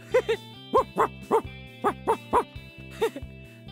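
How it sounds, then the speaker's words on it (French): A large dog barks repeatedly in short, evenly spaced woofs, fairly close, over a faint steady background hum. "Ici, il y a, je dirais, un très gros chien."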